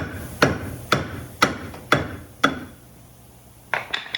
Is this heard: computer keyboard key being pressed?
no